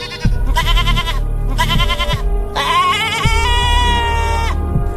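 An animated goat bleats repeatedly and loudly in wavering, drawn-out calls over a steady low musical bed, close and prominent.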